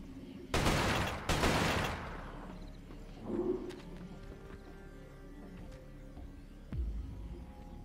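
Automatic weapon fire from the video game Resistance: Fall of Man comes as two loud, close bursts of rapid shots in quick succession, followed by quieter battle noise and a dull thump near the end.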